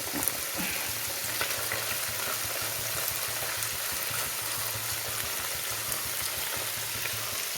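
Sardines frying in hot oil, a steady crackling sizzle with occasional pops, heard alone without voices.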